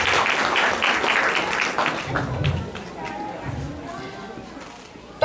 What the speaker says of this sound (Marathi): एकदा खूप जोरदार टाळ्या त्या दोघांसाठी.